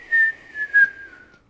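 A human whistle imitates a falling bomb inside a descending elevator: two loud peaks, then a long high tone that slides slowly downward and fades away over about a second and a half.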